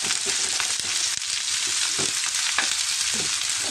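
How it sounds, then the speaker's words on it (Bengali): Onions and potatoes with turmeric fry in a pan, giving a loud, continuous sizzle close up, with faint scrapes of stirring and no talking. "খুবই সাধারণভাবে আমি ভাজি করবো এটা"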